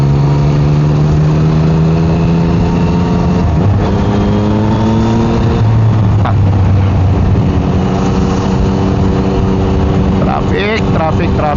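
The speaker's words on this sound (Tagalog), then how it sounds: "Traffic." Road traffic with car engines humming and revving, several vehicles passing close by outdoors, loud and continuous with a steady low drone and rising engine tones.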